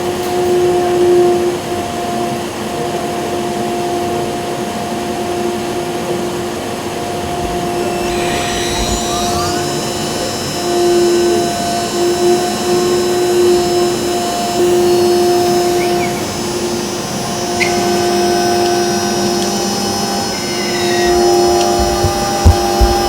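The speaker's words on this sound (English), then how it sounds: "And can someone start the blower?" A blower runs in a machining workshop, a loud steady whooshing roar with constant tonal hum throughout, plus occasional faint squeaks and machine noises on top.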